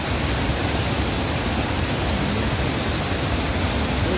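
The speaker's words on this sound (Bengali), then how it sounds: "আর জলটা পড়ছে নিচে" Steady, dense rush of falling water at the waterfall beside Tarini temple in Odisha, loud and unbroken like close-up hiss with no voices or other sounds.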